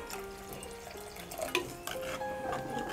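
Water is poured into the masala for a Kerala-style tuna fish curry, a soft continuous trickle and splash at moderate distance with a slight swell partway through.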